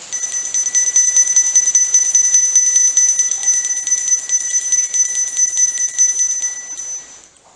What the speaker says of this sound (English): If you can hear this bell, indicate to us